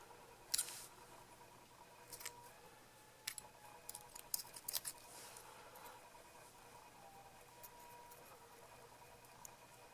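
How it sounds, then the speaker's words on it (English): Scissors snip the tag ends of fishing line off a knot, a few faint sharp clicks scattered over quiet background. "And then cut your tag ends off."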